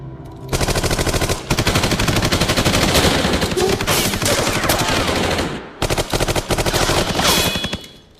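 Sustained bursts of machine gun fire, loud and close, rattling almost continuously with a few short pauses between volleys.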